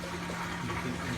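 An LG WT7100CW top-load washer drains with a suspected faulty pump, making a steady rushing of water over a constant low electrical hum, loud and continuous.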